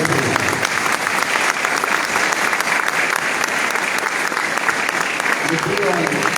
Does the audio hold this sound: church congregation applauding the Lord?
yes